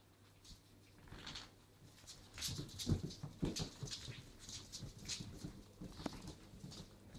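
Six lively puppies whimper and yip while playing together with cats indoors, a busy run of short high cries and scuffling, moderately close, with no talk.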